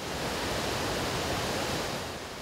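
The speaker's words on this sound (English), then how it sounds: "We leave you now at Sandstone Falls on the New River" Sandstone Falls on the New River in West Virginia roars as a dense, unbroken wash of falling water, loud and constant with no voices.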